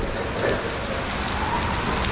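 Heavy rain during truck loading pours down steadily in a dense, even hiss of drops striking surfaces, loud and continuous with no voices.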